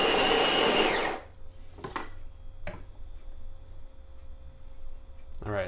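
Electric coffee grinder, an OXO On Barista Brain or Breville Smart Grinder, grinding espresso beans in a loud, dense burst for about a second, then stopping, followed by a few faint clicks and a low hum.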